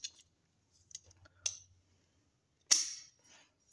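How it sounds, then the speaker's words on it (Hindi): A handful of sharp, isolated metallic clicks from the hammer and trigger of a 30 bore pistol being dry-fired, close up and fairly quiet, with a louder snap near the end. "ये देखें हैमर और ट्रैगर अपना बेहतरीन काम कर रहे हैं।"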